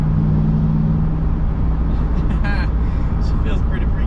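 A high-mileage truck engine pulls steadily in third gear, a loud continuous rumble from inside the cab with a faint rising tone, and a voice talks briefly over it.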